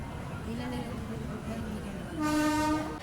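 The Kaifiyat Express sits at Aligarh Junction's platform 3 at night, with a long, loud train horn sounding near the end over a steady platform rumble, while someone talks throughout.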